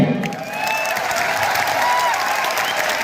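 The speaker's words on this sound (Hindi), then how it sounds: "हमारे एमडी सर के लिए भी जोरदार तालियां होनी चाहिए" A large audience at a network marketing business event claps loudly and steadily, a dense, sustained round of applause filling the room.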